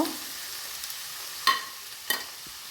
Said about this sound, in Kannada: ತರಕಾರಿ ಎಲ್ಲ ಆಯಿಲ್ನಲ್ಲಿ ಚೆನ್ನಾಗಿ ಫ್ರೈ ಮಾಡ್ಕೊಳ್ಬೇಕು